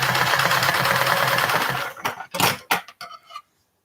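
A sewing machine runs steadily while stitching a small bag lining, then stops, followed by a few sharp clicks and handling knocks close by.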